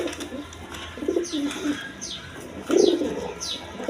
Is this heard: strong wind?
no